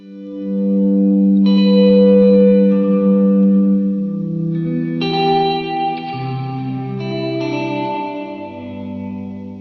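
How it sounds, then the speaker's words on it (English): Electric guitar swells run through a Strymon BlueSky reverb pedal in room mode, several soft-attack chords fading in one after another and blooming into a long, smooth ambient tail. "the second reverb is the BlueSky from Strymon, and this is normal room mode"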